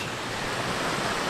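Mountain stream water rushes steadily along the Alum Cave Trail in the Smokies, a constant close broadband roar with no other sounds.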